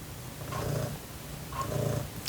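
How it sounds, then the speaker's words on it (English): A cat purrs loudly and close by, steady rumbling cycles of inhale and exhale repeating about once a second, with no talk. "she's purring so loudly, I think the microphone's picking up"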